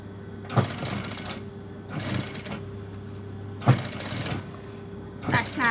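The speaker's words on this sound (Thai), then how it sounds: "เย็บธรรมดาแบบนี้ตะเข็บริมเล็ก ๆ" A sewing machine stitching a small folded hem seam on a pair of trouser legs, running in several short bursts of rapid whirring with pauses between, close and fairly loud.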